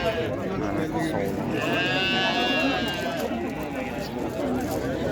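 Sheep and rams bleat at a busy Saturday livestock market in Oqtepa, with a drawn-out bleat standing out midway over steady crowd noise and background voices.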